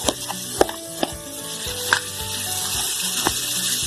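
Chicken liver (kaleji) fries on a tawa over a medium flame in a dhaba-style preparation, giving a loud, close, continuous sizzle broken by sharp spitting pops and a few stirring scrapes.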